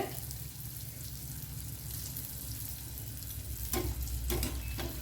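Mysore bonda deep-frying in hot oil over a high gas flame makes a dense, continuous sizzle, close and steady, with a brief louder bubbling burst near the end.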